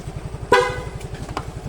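A single short stock horn honk from a Yamaha Fazzio scooter rings out over the steady putter of its idling engine, then a couple of fainter beeps follow.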